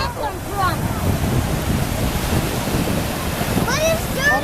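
Flood water rushes in a steady broadband roar outdoors during a 2013 flood, loud and continuous, with faint bird chirps breaking through at the start and end.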